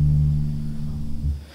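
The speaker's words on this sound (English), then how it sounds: "that part right there, I filtered the bass," A music sample with its bass filtered out, played back as a bass line in a DJ clinic, sounds like a steady sustained low tone that thins and fades toward the end, with no voices.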